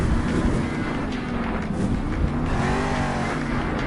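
Monster truck engine at an arena Monster Jam event roars and revs hard through a wheelie, a loud continuous rumble with rising and falling pitch over crowd and arena din.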